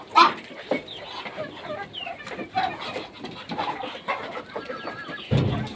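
Chickens cluck and squawk close by while pecking at chopped leeks set out in a metal tray, irregular bursts of clucking with a louder squawk near the end.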